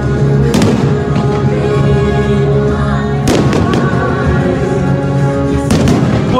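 Fireworks bursting over the lake during Epcot's Luminous nighttime show of lights, fireworks and water jets, loud, booming detonations and crackles arriving in three main volleys over a continuous roaring, dense background.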